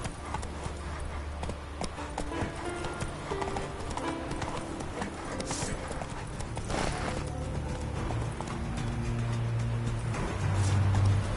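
A horse gallops in The Witcher 3: Wild Hunt, its steady rhythmic hoofbeats clopping continuously over a tonal game soundtrack, growing slightly louder toward the end.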